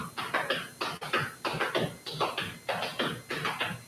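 Appalachian flatfooting dance steps with a brush added: quick rhythmic taps and scuffs of shoes on a floor, repeating in a steady pattern of short bursts, close and clear, with no talk.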